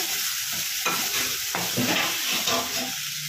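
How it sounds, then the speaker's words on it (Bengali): Spice paste for an okra (bhindi) dish sizzles in hot oil while a spoon stirs it, with repeated scraping strokes against the pan over a steady frying hiss, close up and without talk. "পেস্টটা আমি দিয়ে নিয়েছি। এবার সামান্য এটাকে একটু নাড়াবো।"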